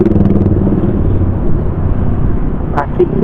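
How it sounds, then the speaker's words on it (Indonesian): Classic motorcycles riding at night near Pangalengan, a continuous loud, close engine rumble with wind and a voice talking over it. "Motor-motor klasik"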